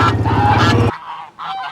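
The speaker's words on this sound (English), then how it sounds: "Stupid geese." Geese on a pastured chicken farm honking loudly up close, one long harsh call followed by two shorter honks after a brief pause.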